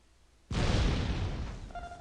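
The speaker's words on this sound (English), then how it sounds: "See if we can get another two with this cluster bomb." Cluster bomb going off in Star Wars Galaxies, a sudden loud blast that swells into a rumbling roar and slowly fades, followed by a faint high tone as it dies away.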